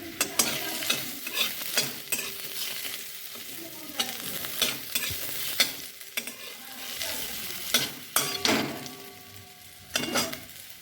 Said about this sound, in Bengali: তো এগুলো আমি ভাজা হতে দেবো।